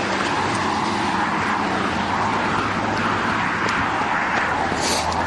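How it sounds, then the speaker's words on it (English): Steady broadband road traffic roar along a trail loop, continuous and fairly loud throughout with no talk, cars passing nearby blending into a constant wash. "Once this traffic noise stops, we will hear what's going on with the music"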